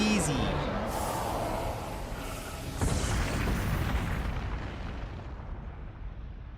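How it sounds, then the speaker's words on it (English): An explosion in the video game Zelda: Tears of the Kingdom rumbles as a broad, sustained roar with a second surge partway through, then slowly fades and thins out. "Although I'm not sure we survived that final explosion."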